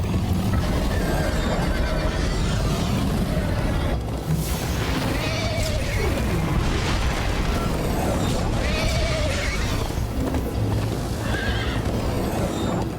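Galloping horse in the video game Minecraft Story Mode during a chase, with repeated whinnies and neighs over a steady, loud, thudding rumble of hooves and occasional crashes, sustained for several seconds without speech.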